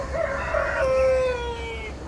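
A rooster on Avşa island crows once in a long drawn-out call with a rising start and fading tail, moderately near over low background rumble, no voices.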